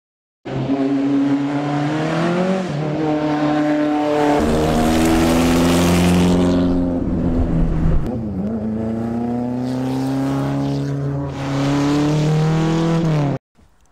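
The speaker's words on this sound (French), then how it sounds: "vous venez de voir rouler la fameuse Maserati Tipo 61" A 1961-era Maserati Tipo 61 race car drives past, its engine loud and close with rising and falling revs through gear changes, a brief tire squeal in the middle, and a strong roar throughout.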